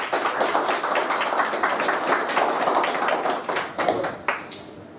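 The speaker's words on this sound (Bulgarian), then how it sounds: "Аплодисменти!" A crowd at a golden wedding anniversary celebration claps in a dense, steady burst that stays close and loud, then thins into a few scattered claps near the end.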